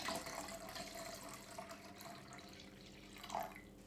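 Tap water runs into a measuring vessel, topping up a homemade red wine film developer mixture to 600 millilitres, a soft steady pouring and trickling sound that stays close, with no talk.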